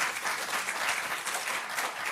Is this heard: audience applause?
yes